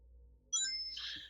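A mobile phone ringtone chimes up suddenly in a quiet room, a short bright melodic burst of tones that swells and holds to the end.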